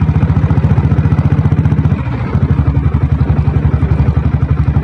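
A Royal Enfield Bullet with a diesel engine runs at idle, its loud, even thumping beat close by, with a brief dip and stumble in the middle before the steady rhythm picks up again.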